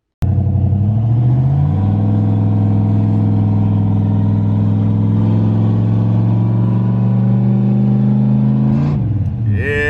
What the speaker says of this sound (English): I miss this LS sound, man.